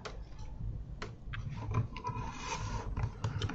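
A pencil draws a light line on Stampin'Up! card stock, making a soft, close scratchy rubbing in short strokes with small ticks between them.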